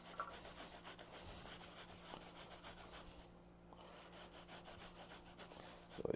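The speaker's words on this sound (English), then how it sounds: "so we've come to the end of grating plantain" Green plantain being grated by hand, a steady rasping, scraping rub that runs continuously, close and fairly quiet, with no talking.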